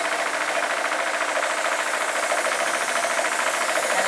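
An airbrush compressor runs steadily on its stand, a dense continuous mechanical hum with fast rattling vibration, loud and unbroken throughout.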